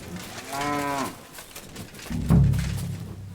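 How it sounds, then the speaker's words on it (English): Cows in the video game Kingdom Come: Deliverance II, one clear rising moo up close followed by a deeper, lower bellow from a second animal, with faint ambient background. "Two nicely fattened cows."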